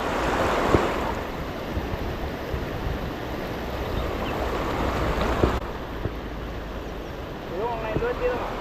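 Fast-flowing river water at Thirappilly rushes in a steady, loud broadband wash, with occasional voices and brief knocks over the continuous current.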